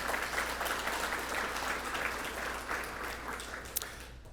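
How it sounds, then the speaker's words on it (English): An audience at a charity fundraising press conference applauds, a dense, steady round of clapping that holds for several seconds before tapering slightly, with no voices over it. "Can we give another round of applause for those folks as well"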